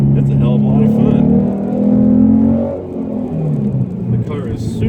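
Modified 2016 Ford Mustang with a 3.7 V6 on a mountain road, its engine droning loud and near with shifting pitch that dips midway, while someone talks over it.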